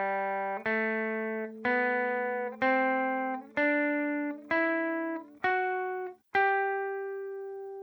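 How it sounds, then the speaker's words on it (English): Rock guitar playing a major scale, seven clean plucked notes rising one after another at an even pace, each ringing briefly with rich harmonics, the last note left to sustain and fade. "Most people are very familiar with the major scale."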